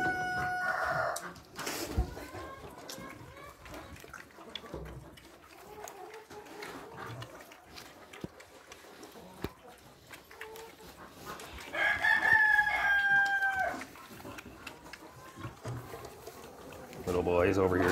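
A rooster crows once, loud and drawn out, amid scattered clucking from nearby hens at feeding time; a person talks quietly at times.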